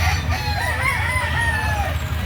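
A rooster at a chicken market in Lipa City, Batangas, crows once in a loud, drawn-out call over a dense background of crowd noise and low rumble.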